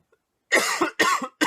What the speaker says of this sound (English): I have the worst cough